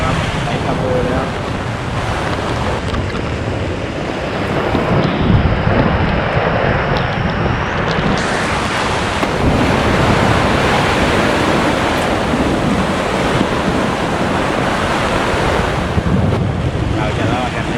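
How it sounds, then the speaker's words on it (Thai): Strong wind roars at a campsite with a loud, steady, broadband rush buffeting the microphone throughout and gusting harder partway through. "โอ้โหลมแรงด้วยครับ"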